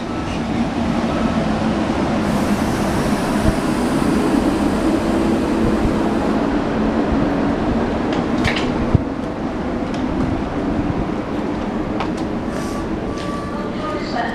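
A passenger train on a Fens line, driver trailer leading, pulling into a station: a loud, continuous rumble with faint high squeals and clicks layered over it throughout.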